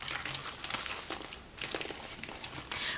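Paper cash bills, $300 in fifties, being handled and stuffed into a budget envelope, giving close crinkling and rustling in short bursts with brief pauses.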